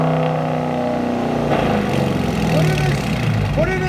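A Dodge Challenger 5.7L HEMI R/T with a loud aftermarket exhaust idles with a deep rumble, then revs up and settles back as the engine note rises and falls. A voice talks over it.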